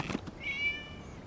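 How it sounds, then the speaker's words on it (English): A cat meows once in the Genshin Impact game world, a short tonal cry rising and holding briefly, fairly clear over a quiet background. "It was just a cat."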